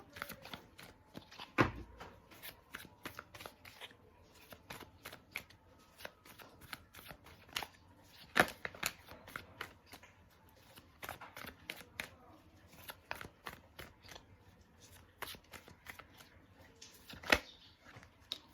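Tarot cards being shuffled by hand in a quiet room, with repeated soft riffles and crisp flicks in a steady, uneven rhythm and a few sharper snaps standing out, no talking.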